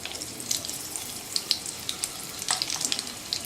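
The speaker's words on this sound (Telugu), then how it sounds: "ఇది కొంచెం ఫ్రై అయ్యాక 4 వెల్లుల్లి రెబ్బలు ఇలా కొంచెం చిరుముకొని వేసుకోవాలండి." Garlic cloves frying in oil in a pan while making spinach dal, a steady close crackling sizzle with scattered sharper pops and spits throughout.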